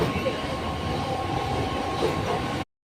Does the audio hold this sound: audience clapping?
no